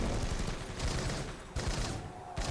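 Heavy overlapping gunfire in the Driver 3 driving game, loud bursts of rapid shots with brief drops before the firing resumes.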